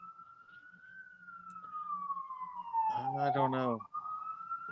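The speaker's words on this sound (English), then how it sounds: "sirens going off" A siren wails with a steady rising and falling tone throughout, distant and fairly quiet, while a person speaks briefly over it near the middle.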